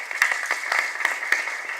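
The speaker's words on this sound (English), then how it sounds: "We again give a loud applaud to our presenter" An audience at a conference session applauds a presenter, a dense, continuous burst of many hands clapping, loud and close throughout.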